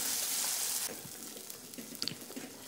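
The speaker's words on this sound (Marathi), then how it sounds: "तेल तापल्यानंतर आपल्याला मिक्सरमधून काढून घेतलेले मसाल्याचे वाटण टाकून घ्यायचे आहे" Ground spice paste hitting hot oil in a wok, a bright hiss that starts strong and then settles into a softer crackling sizzle with a few small spatters.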